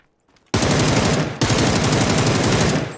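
Rapid automatic gunfire from a video game, a dense, loud burst that starts abruptly after a brief quiet and then repeats in a second sustained volley.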